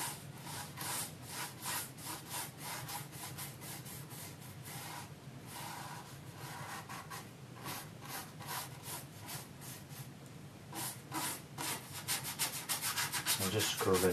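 Brisk rhythmic scrubbing of a paintbrush working paint onto a canvas, close and fairly quiet, repeated short strokes that quicken and grow a little louder toward the end.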